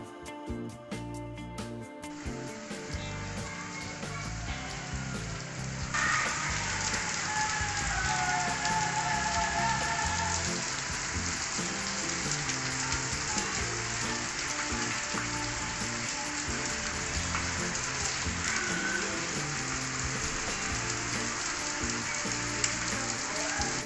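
Rain falling outdoors during a long spell of wet weather, heard as a dense, continuous sizzling patter with a steady hiss throughout and faint background sounds, no talk.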